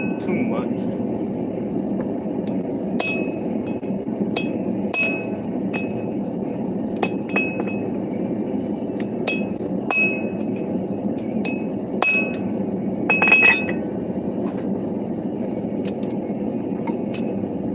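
Hammers strike hot metal at a forge during live forging of hammers, sharp ringing clinks scattered irregularly over a steady low roar, with a quick cluster of blows near the end.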